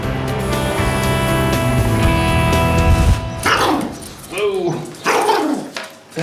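A small Chihuahua yelps and whines with thin, high-pitched barks, followed by excited human voices talking over the dog.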